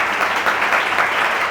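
A church congregation claps loudly together during a worship service, a steady dense wash of applause filling the whole short moment without pause.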